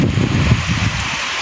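Rain falls outside a window in stormy, windy, overcast weather, a dense steady patter and hiss that fills the whole moment without voices.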